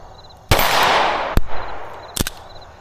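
Several shots from a Springfield Prodigy 2011 pistol on an outdoor range, firing with ammunition prone to light primer strikes. One long ringing blast comes first, then a single sharp crack, then a quick double report, all close and loud with pauses between.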